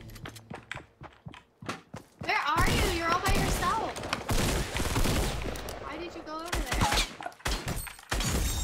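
Gunfire in the video game Fortnite, rapid bursts and sharp shots with clattering footsteps, dense and loud through the middle, with voices talking over it.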